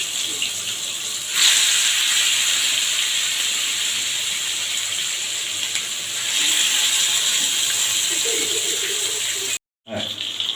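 Broiler chicken pieces fry in hot oil over a medium flame, a loud continuous sizzling hiss that surges when the pieces go in and again midway, with a brief dropout near the end.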